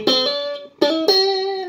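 An electric guitar runs through a Shark Moo Kalei Overdrive pedal set as a clean boost, playing three sustained notes or chords that ring out full and bright, each strike sounding close and alone.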